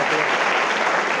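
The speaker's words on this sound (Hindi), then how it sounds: "इनके लिए बहुत सारी तालियां।" Brief burst of steady clapping from students and guests at a cyber crime awareness session, dense and fairly loud throughout with no talking on top.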